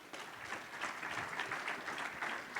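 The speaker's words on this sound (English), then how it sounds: "Everyone, let's give Dion Clisso a round of applause." Steady applause from an audience at a media day event, a continuous wash of clapping hands that holds evenly for a few seconds with no talk over it.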